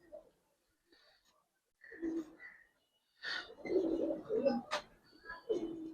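Giribaz coloring pigeons coo in short, soft bursts with quiet gaps between them, fairly close and alone.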